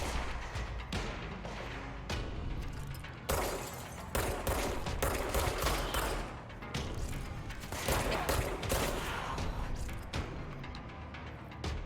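Dense, loud gunfire crackles through combat in the video game Control, with rapid overlapping shots, bursts and impacts filling the scene almost without a break, and no talking heard.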